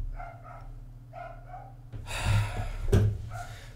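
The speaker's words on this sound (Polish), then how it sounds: "Wybaczcie pieseła sąsiadów," A neighbours' dog barks nearby, a couple of loud sharp barks landing in the second half after a stretch of quieter background sound.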